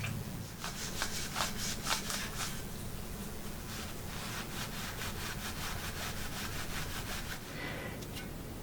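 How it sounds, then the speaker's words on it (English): Wrinkled aluminum foil scrubs the chrome of a 1969 Schwinn bicycle in quick, repeated back-and-forth rubbing strokes, a close, steady rasping scratch with no talking. "You can also use a piece of wrinkled up aluminum foil. It does a beautiful job at cleaning this up."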